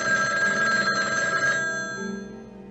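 Old-fashioned telephone bell ringing in a movie trailer, a loud rapid metallic trill that carries on for a couple of seconds over a low rumbling backdrop before fading.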